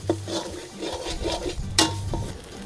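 Raw Thai curry paste is stir-fried in a pan for a spicy pumpkin and chicken curry, with steady scraping and stirring strokes of a spatula and one sharper knock partway through.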